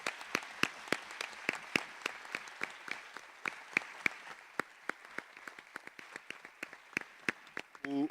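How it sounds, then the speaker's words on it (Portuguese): Audience at a teachers' congress on school innovation in the Vale do Minho applauds, a steady patter of many hands with sharper individual claps throughout, moderately distant and unbroken by talk. "uma grande salva de palmas entre todos"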